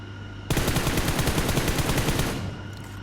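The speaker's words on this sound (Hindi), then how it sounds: "आगे थोड़ा फायर करा और ऐसे इसको ख़त्म कर दिया" Automatic gunfire from a Free Fire mobile battle royale match, a sudden loud burst of rapid rounds starting half a second in and rattling steadily for about two seconds before easing off, with no talking.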